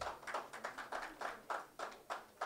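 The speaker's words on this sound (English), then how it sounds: "A round of applause for him" Faint, sparse clapping from a small audience greets a panel speaker at a conference, an even run of separate claps with no talk.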